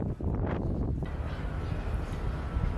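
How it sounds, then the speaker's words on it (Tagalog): Strong wind at Dubai Marina, a dense, continuous roaring rush that buffets the microphone, with a brief gustier swell near the start before settling into steady noise. "Lakas ng hangin."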